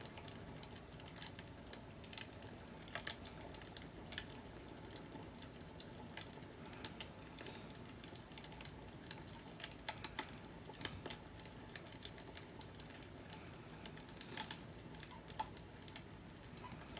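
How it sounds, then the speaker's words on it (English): Pens click and tap steadily on paper during a live ambidextrous drawing session, a faint, continuous patter of small ticks that resembles typing, with no talk. "Clicking noise sound like it's supposed to be your pens on the paper."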